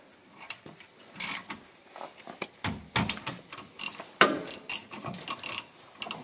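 A wrench loosening the brake caliper guide bolts on a 2019 Fiat Panda, quiet irregular ratcheting clicks and metallic ticks close by, with no talking.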